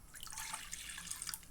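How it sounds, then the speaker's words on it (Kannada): About a quarter glass of water is poured into a pan, making a brief, fairly soft splashing trickle that lasts under two seconds. "ಒಂದು ಬಾಣಲೆ ಇಟ್ಟಿದ್ದೀನಿ. ಇದಕ್ಕೆ 1/4 ಲೋಟ ಆಗುವಷ್ಟು ನೀರು ಹಾಕ್ತಾಯಿದ್ದೀನಿ."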